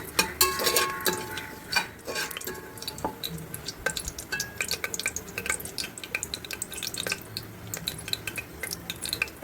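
Spices frying in oil for a vegetable biryani, with a spoon clinking and scraping against the pan as it stirs, soft sizzle and irregular metallic taps close by, no talking.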